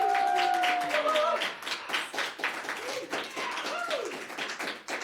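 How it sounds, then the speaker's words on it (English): Audience at a live late-night show with a freestyle rapper in Portland claps and cheers, with whistles and voices mixed into steady broadband clapping over roughly five seconds. "Everybody give yourself a round of applause out there."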